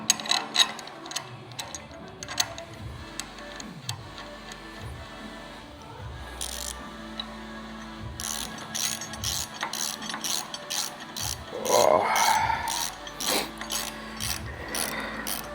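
A ratchet bolting on TBM brake parts for a twin-turbo S10, with close rapid clicking runs of the pawl, pauses and metallic handling noises between bursts.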